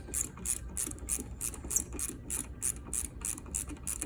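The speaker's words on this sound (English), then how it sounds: "I like these ratcheting wrenches because they're much faster." A ratcheting wrench loosens a battery terminal screw on a Suzuki C50 Boulevard VL800 motorcycle, clicking in a quick, even rhythm of about a dozen close, crisp ratchet strokes.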